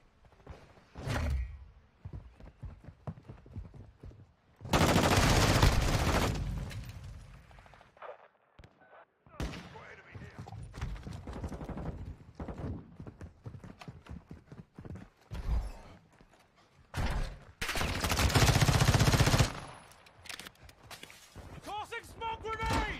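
Bursts of gunfire in the Call of Duty video game, with loud broadband blasts around five and eighteen seconds and scattered shots between, mixed with game radio chatter and other clatter.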